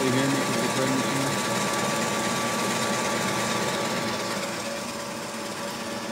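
A bread machine runs nearby in a home roastery setting, giving a steady mechanical whirring and rattling hum that continues throughout, with a person's voice talking faintly underneath.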